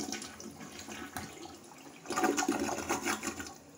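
A Mansfield Alto toilet flushes with a rushing swirl that swells partway through into loud, bubbling gurgles of draining water, close up and with no voices.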